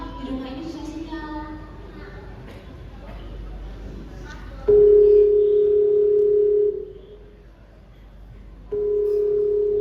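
A telephone dial tone sounds during a school stage musical drama, following a stretch of talk and background sound; a steady, fairly loud tone holds for about two seconds, breaks off, then returns.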